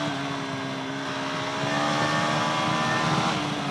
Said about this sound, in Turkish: Tapa gaz çıkıyorum virajlardan.